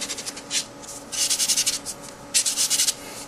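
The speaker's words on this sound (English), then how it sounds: "you're gonna want to work down from a coarse grit to finer grits" Sandpaper rubbed by hand over a surface, working from coarse down to finer grit, in close rhythmic bursts of scratchy strokes separated by short pauses, with no talking.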